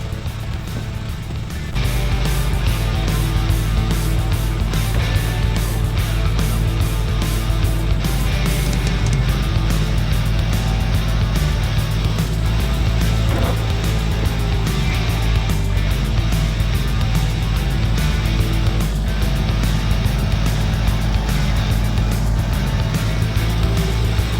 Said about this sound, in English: I'm going to try to jerk it with the tractor to see if I can get it up out of the hole